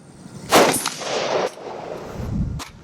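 Rifle shots from an IWI X95 Micro fired from standing at a steel plate at 100 yards: a few sharp, loud reports spaced about a second apart, each followed by a ringing metallic tail.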